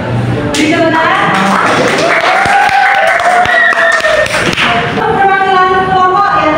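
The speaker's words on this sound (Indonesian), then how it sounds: "Beri tepuk tangan." Classroom applause from students, a dense burst of clapping mixed with thumps and desk taps, loud and close, with voices chattering over it.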